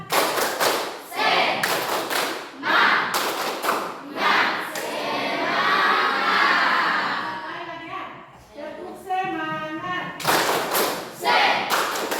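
Schoolchildren in a classroom clap together in a rhythmic tepuk semangat chant, with bursts of group clapping alternating with chanted voices, loud and close.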